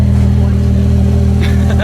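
A 2016 Porsche Turbo S launches hard from inside the cabin, a loud, dense engine roar holding a deep steady drone with faint voices over it.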